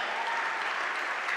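A packed crowd in the Max Morris Gymnasium stands and applauds during a halftime presentation at a high school basketball game, Carterville Lions against West Frankfort, a dense, steady wash of clapping that fills the hall without letup.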